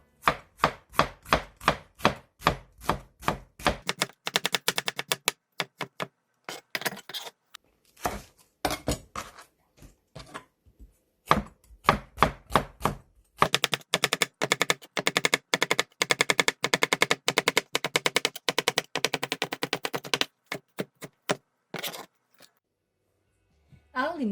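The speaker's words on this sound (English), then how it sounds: "Let's cut the vegetables." Knife chopping fresh winter cabbage for kimchi: rapid, evenly spaced sharp chops in fast bursts, close and loud, with brief pauses between runs and no talk.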